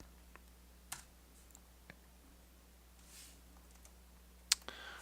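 Keys clack on a computer keyboard as a command is typed in Minecraft: a few sparse, quiet clicks spaced apart, with one sharper tap near the end, over a faint steady hum and no talk.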